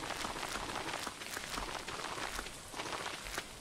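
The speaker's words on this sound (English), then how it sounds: "Okay, luckily it's raining." Steady rain in the farming video game Stardew Valley, a dense, continuous hiss with soft irregular patters, even and unbroken throughout.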